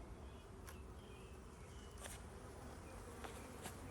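Bees hum steadily around an open hive frame of brood, a dense, continuous buzz close by with a few brief higher whines of individual bees passing near.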